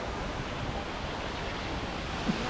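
Water in a Hong Kong park at night gives a soft, continuous rushing hiss, even and fairly distant, with a small brief knock near the end and no talking.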